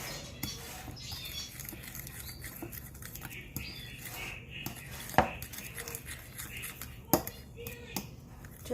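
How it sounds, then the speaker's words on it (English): Seasoned potatoes and chicken are tossed and mixed together, giving soft wet patter with occasional sharp clinks of a utensil against the dish, close and continuous over a low background. "And now you can mix it all together."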